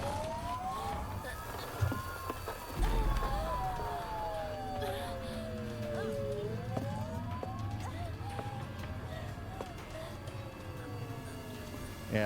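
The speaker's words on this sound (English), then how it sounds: "that sounds like an ambulance trying to come and get her" A wailing ambulance siren in the video game Silent Hill f, its pitch sweeping up and down repeatedly over several cycles at moderate distance, with occasional thuds and other game sounds beneath it.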